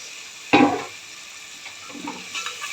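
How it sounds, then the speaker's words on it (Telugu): Green chillies and ginger dropped into a hot pan for tomato rasam: one sharp hissing sizzle bursts up, then fades to a quieter crackle with light stirring scrapes. "ఇవన్నీ కొంచెం బాగా వేగేదాకా వేపుకున్నాం"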